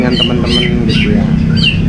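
A cucak ijo songbird sings at a bird contest, sharp chirping phrases repeating over a dense crowd of other birds and people talking.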